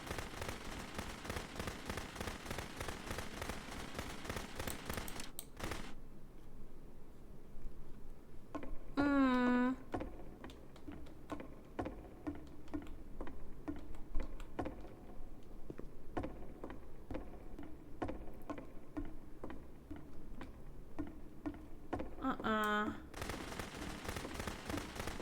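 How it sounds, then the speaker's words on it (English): Gunfire sounds in the video game The Beginner's Guide: sharp, repeated shots in rapid runs and scattered single cracks, moderately loud over quiet game sound throughout. "Remember, you can click to fire the gun."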